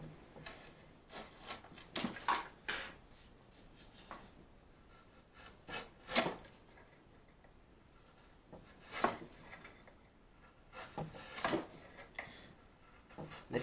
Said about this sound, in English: taking some carving tools here and just slowly carving out the relief for the neck